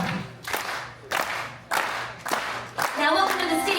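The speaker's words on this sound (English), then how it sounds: "Now I think we should start this show with a bit of a slow clap." A few loose, separated handclaps from a cruise ship show audience, starting slow with broad gaps, building into a denser burst of clapping and crowd noise near the end.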